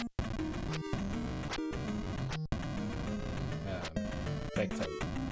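A bee enemy in the 1988 video game Zelda II: The Adventure of Link buzzes continuously over busy chiptune background music, with brief dropouts throughout.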